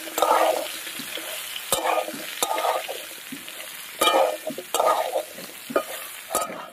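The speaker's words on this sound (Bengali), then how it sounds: "হলুদ দিয়ে আর একটু ভেজে নেব" Drumstick pieces and potatoes frying with turmeric in a pan, a steady close sizzle broken by sharp scrapes and clanks of a spatula stirring at irregular intervals.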